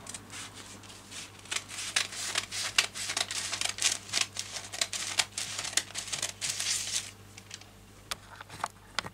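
Scissors cut around a paper dress pattern for a child's A-line dress, giving close crinkling paper rustles and rapid crisp snips that come in uneven bursts.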